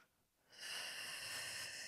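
A deep, steady inhale during a morning lower-body workout, heard as a sustained airy hiss that swells in after a quiet moment and holds on close to the microphone.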